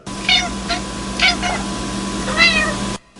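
A house cat meows three times in short, clear calls spaced about a second apart, close to the listener over a steady low indoor hum.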